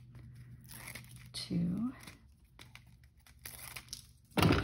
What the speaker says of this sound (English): so let's take off the release paper